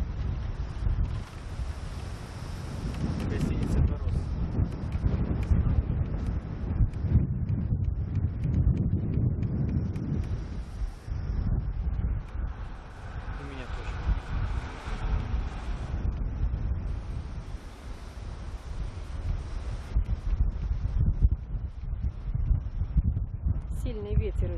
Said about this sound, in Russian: сильный ветер очень.